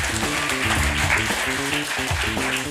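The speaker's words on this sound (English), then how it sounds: "So let's give them a huge round of applause," An audience at a startup competition semifinal claps for the teams, a dense continuous round of applause with a low music bed underneath.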